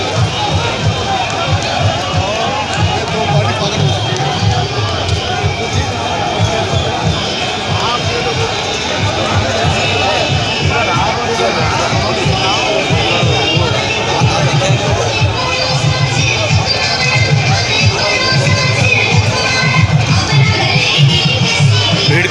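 Crowd gathered outside the Rajendra Nagar assembly constituency nomination office, police and paramilitary present, a dense continuous babble of many voices with shuffling footsteps and movement, loud and close throughout.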